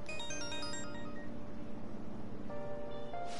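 A phone ringtone in the video game Persona 5 Royal plays a bright, repeating electronic melody of clear tones, pausing briefly before the tune resumes, with no talk over it.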